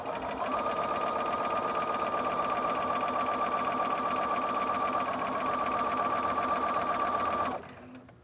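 A sewing machine runs steadily, stitching a patchwork quilt block along a drawn line, a loud, even mechanical whir with rapid regular needle clatter that stops abruptly near the end.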